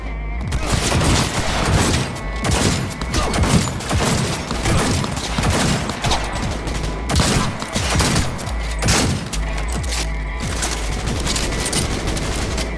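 Rapid turret gunfire in Cyberpunk 2077, loud continuous automatic bursts hammering throughout with heavy thumps, while voices shout briefly underneath.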